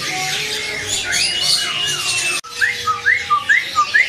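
A caged male white-cheeked bird gives harsh squawks and whistles, then a run of five quick rising chirps in steady rhythm, close and loud.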